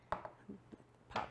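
Knife cutting into an avocado on a cutting board: a few soft, close taps and knocks, with a firmer one near the end, quiet overall.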